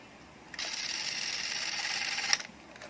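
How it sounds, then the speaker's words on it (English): A steady mechanical whir of a Fujica Z800 film camera motor runs for about two seconds, then stops with a faint click. "I have initialization. I can feel the motor."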